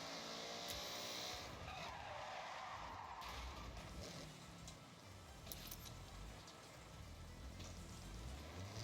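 In a rally video game, a car slides with the e-brake, giving a sustained tire skid and scraping over engine noise, moderately loud and continuous with a few brief bright clicks.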